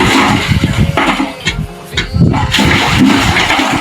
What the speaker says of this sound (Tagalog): Lalabas na tubig dito sa bomba.